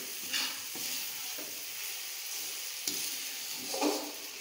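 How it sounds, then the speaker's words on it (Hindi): Masala sizzling in oil in a pan for masala bhindi, a continuous moderate frying hiss broken by a few soft scrapes and clinks of stirring, with no voices. "देखिए मसाला हमारा तैयार हो रहा है"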